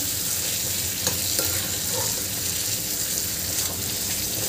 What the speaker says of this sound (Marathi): इथे हे एकदा आपल्याला भाजी हलवून घ्यायची आहे